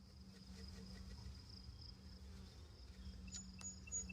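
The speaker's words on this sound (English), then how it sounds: "I hear so many bees passing my ear." Faint, steady honey bee buzzing hums throughout at newly installed hives, a soft drone with a few brief louder passes near the ear near the end.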